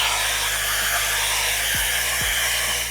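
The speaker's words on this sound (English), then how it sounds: "take your blow dryer, cold air." A handheld blow dryer runs on its cold setting in a barbershop, a steady close whooshing hum held throughout with a brief pitch dip near the end.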